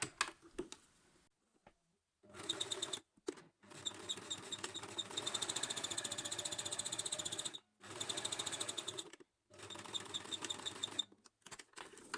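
Home sewing machine stitching folded cotton fabric for a fitted face mask, running in several steady whirring bursts separated by short pauses, close and fairly quiet with no talking.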